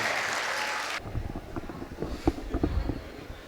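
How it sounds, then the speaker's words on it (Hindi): Audience clapping at a Kul Hind mushaira poetry gathering in Mohammadi, Khiri, after a loud wind-like burst of noise cuts off; scattered, uneven hand claps follow at moderate distance for a few seconds. "के लिए एक मरतबा पुरजोर तालियां बजा दीजिए।"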